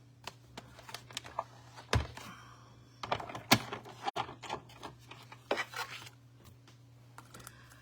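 A small die run through a manual die-cutting machine to cut out paper shapes for a Fresh Freesia card, giving a string of close clunks, clicks and rattling thunks with a steady low hum beneath.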